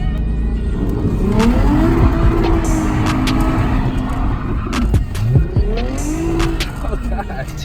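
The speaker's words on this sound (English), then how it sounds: "I'm gonna be doing a little bit of drifting in my IS350." A Lexus IS350 on large 19-inch wheels drifts with a loud, close engine revving up and down and repeated tire squeals and skids. Voices are faintly audible beneath the noise.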